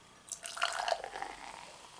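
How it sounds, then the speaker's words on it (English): 7UP Shirley Temple, a cherry and pomegranate soda, is poured into a glass, a short quiet trickle and fizzing splash that builds after a brief pause and then tapers off. "I'm gonna pour a sample in the glass."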